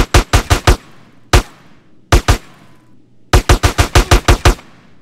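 Video-game gunfire from GTA San Andreas: loud, sharp shots in rapid bursts, a quick string of four, a couple of single cracks, then a longer volley of about eight.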